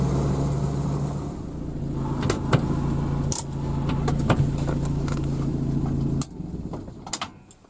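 Steady car engine drone and road rumble inside a vehicle heading out on a hazel grouse hunting trip, with small rattles and clicks over the hum before it cuts down near the end.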